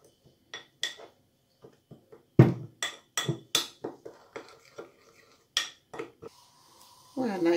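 Spoon scraping and clinking against a bowl as spices are mixed into chicken with lime zest and red onion, irregular close knocks and scrapes of varying loudness, ending in a longer rubbing clatter.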